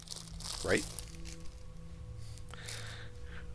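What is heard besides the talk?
unwrapping and eating a Star Crunch snack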